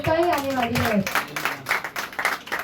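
At a first birthday celebration, a group claps in quick, uneven bursts that pick up after a spoken line. The sharp hand claps repeat close by for a couple of seconds.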